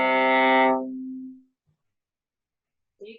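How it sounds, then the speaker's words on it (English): A single sustained bowed note on a viola string rings and fades out over about a second, then silence before a voice begins speaking briefly at the end. "This is the sound of the viola."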